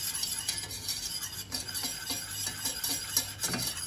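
Flour is stirred into melted butter in a pan for a roux, with soft scraping and light clinks of a utensil against the pot, faint and close.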